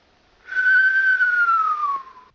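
A single sustained whistle, clear and close, imitates asthmatic wheezing. It holds one pitch that slowly drops for about two seconds, then stops.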